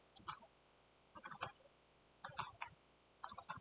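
Four short, quiet bursts of clicking keys from a computer keyboard, spaced about a second apart in a quiet room.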